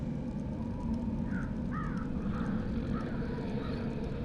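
Crow caws from the video game Dreamfall: The Longest Journey, a few short calls spread across a steady low ambient hum, moderately distant and not especially loud.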